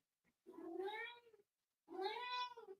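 A house cat close by gives two drawn-out meows, clear and fairly quiet, with a short pause between them.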